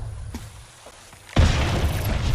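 A grenade goes off in the Apex Legends battle royale during a competitive ALGS match: a sudden loud boom about halfway through that becomes a sustained broadband roar, after a quieter stretch.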